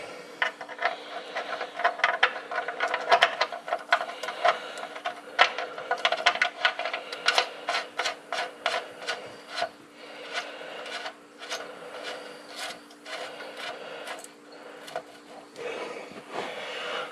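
A ratchet tightens a spark plug on the engine of a 1955 Willys Jeep CJ5, a long run of quick, close clicks and rasping strokes with brief pauses, no voice heard.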